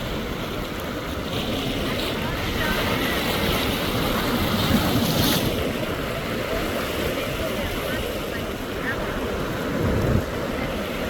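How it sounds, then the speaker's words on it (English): Ocean waves wash and break against the rocks of a jetty as a loud, constant roar, buffeted by wind noise on the microphone. "the waves are cool"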